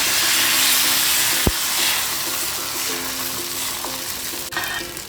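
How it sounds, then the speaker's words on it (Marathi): Rice pancake (ghavan) batter poured onto a hot oiled pan in a Konkan-style kitchen, a steady broad sizzle and hiss with a sharp tap of utensil on pan partway through. "तापलेलं असतानाच तेल लावून घ्यायचं आहे पुन्हा पीठ ढवळून घ्यायचं आहे आणि घावणा सोडायचा"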